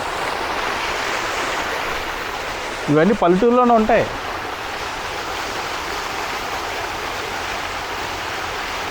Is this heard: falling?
yes